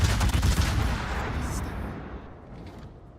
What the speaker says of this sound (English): Fire our guns as fast as we could.